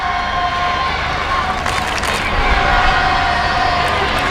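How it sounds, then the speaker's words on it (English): A large crowd at a women's T20 cricket match at Hove, England v India, roaring in support of India: a dense, sustained wash of cheering and noise, loud and steady throughout, swelling slightly in the second half. "Good support around Hove for India. There's a lot of noise. They're being roared on in the field."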